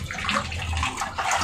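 Potatoes cut for restaurant-style French fries are washed under running water, a steady splashing gush that fills the short moment close by with no talk.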